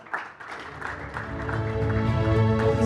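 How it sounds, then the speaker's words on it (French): Audience applause fills a conference hall during a chemistry and human resources panel, steady dense clapping from a seated crowd that builds and holds, with a tonal hum or music underneath growing louder toward the end. "Merci de me rejoindre sous les applaudissements de la salle."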